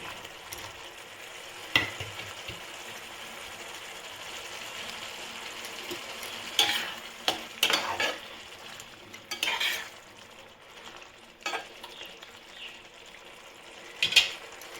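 Paneer added to a bubbling coriander leaf gravy simmers in a pan, a faint soft bubbling bed broken by several louder stirring and scraping bursts spread over the stretch, with no speech.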